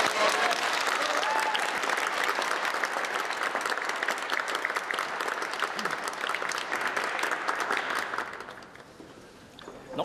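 Applause after a campaign speech by a mayoral candidate: a dense crowd of clapping hands, loud and sustained for about eight seconds, then thinning out toward the end.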